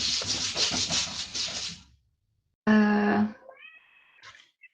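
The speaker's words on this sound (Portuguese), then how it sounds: "Arranhando a porta." Cat scratching at a door, a dense rough rubbing and scraping for about two seconds, followed after a pause by a loud drawn-out meow and some fainter high cries.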